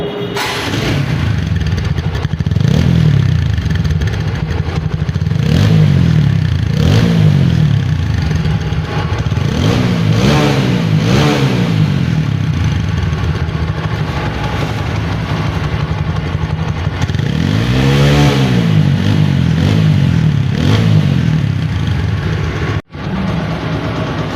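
A TVS Apache RTR 4V motorcycle engine runs loud and close, idling with a steady throb and rising into several throttle revs that swell and fall back, with no talk over it.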